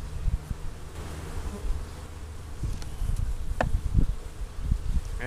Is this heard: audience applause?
no